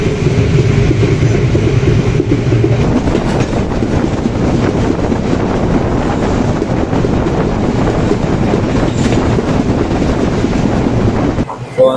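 Night mail express train rolling on rails toward Colombo, a steady loud rumble with rail clatter and wind noise throughout, heard from inside the carriage.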